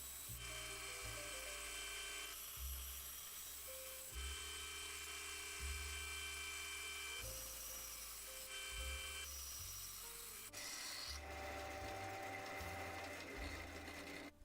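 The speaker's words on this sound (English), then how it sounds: "I can remove that material again on the bandsaw, using the miter gauge to guide me." A bandsaw cuts wood guided by a miter gauge, its motor whining steadily for the whole stretch while the tone shifts and thumps as each pass is pushed through, with no talk.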